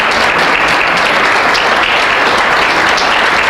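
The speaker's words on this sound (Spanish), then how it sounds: "denle un aplauso fuerte al Señor" A church congregation claps loudly and continuously during a sermon, a thick, unbroken wash of many hands with occasional sharper claps standing out.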